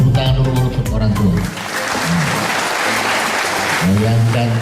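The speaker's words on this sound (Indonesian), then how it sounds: "Tepuk tangan dulu untuk orang tua" Applause at a school ceremony, a steady wash of clapping from a gathered crowd, with a voice over a loudspeaker talking before and after it.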